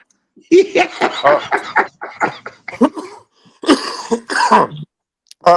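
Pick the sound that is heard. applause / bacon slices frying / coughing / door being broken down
coughing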